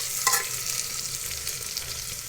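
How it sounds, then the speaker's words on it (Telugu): Matti kaya chilies sizzle and fry in a pan while being stirred, a steady close crackle with a brief scraping stir near the start and no voices. "ఇలా బాగా వేగిపోవాలి."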